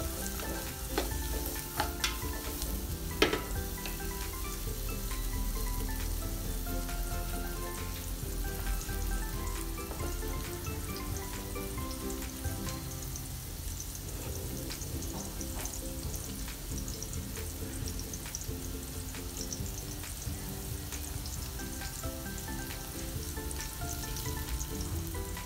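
Garlic and onion sautéing in a pan for oxtail kare kare, a faint steady sizzle and crackle with occasional stirring clinks, no talk.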